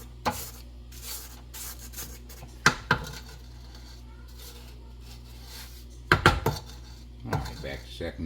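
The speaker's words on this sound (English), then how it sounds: "We're going to go ahead and scrape it down before we add our final 3 eggs" A spatula scrapes down lemon crunch pound cake batter in a mixing bowl, making scattered clinks and scrapes against the bowl in several short bursts over a low steady hum.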